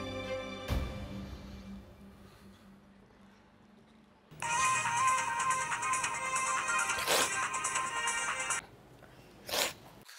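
A mobile phone ringtone in a TV drama scene plays a bright, loud melodic tone for about four seconds after a sharp hit and quiet ambience, followed by a brief crash.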